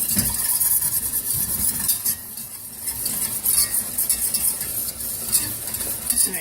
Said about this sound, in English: And let me get my whisk. Whisk that really quick.